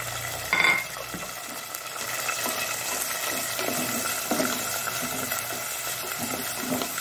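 Tomatoes fry in hot oil in a pan for a coastal fish curry, a steady close sizzle with soft stirring scrapes and a brief sharper clink near the start.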